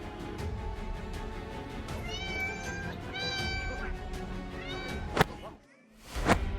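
A cat being constricted by a snake gives loud, strained, repeated meows in short drawn-out bursts over a busy background, ending in a couple of sharp cries.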